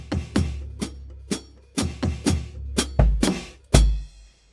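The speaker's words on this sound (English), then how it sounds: "we're also going to just look at 8th note fill-ins" An eighth-note drum fill played on floor tom and snare: a short run of loud, punchy hits with booming low tom strokes and crisp snare cracks, ending on a heavy accented hit that rings out, with no talking.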